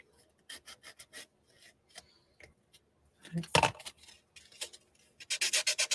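A nail file rasps in short, rhythmic strokes across an acrylic nail extension, quiet scratchy passes with pauses, then a louder scrubbing burst and a fast run of strokes at the end.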